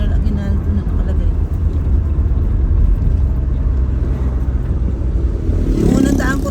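A car drives along a road in Alfonso, Cavite, a continuous close engine and tire rumble with steady road noise from inside the vehicle, and someone speaks briefly near the end.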